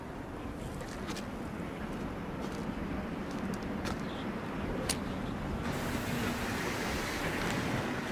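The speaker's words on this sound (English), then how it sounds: "that wind really kicks up off of Lake Erie" Cold wind blowing in off Lake Erie at night, a steady broadband whoosh with buffeting rumble that stays loud throughout and swells slightly toward the end, with no voices.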